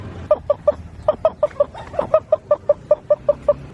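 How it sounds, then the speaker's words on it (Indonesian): A chicken being chased by a duck clucks in a quick, steady series of short, close, evenly spaced calls, with a faint low rumble beneath. "ketika sebuah bebek mengejar ayam."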